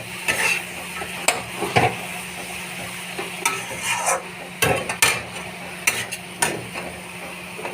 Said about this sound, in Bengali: বেগুনটা কষাবো